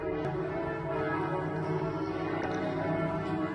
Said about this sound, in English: church bells that have been going for the best part of 10 minutes now